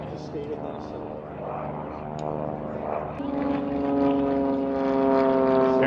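A 1946 Bellanca Cruisair propeller plane passes overhead at the Oshkosh airshow, its steady droning engine growing louder and rising in pitch midway as it nears, with speech over the top.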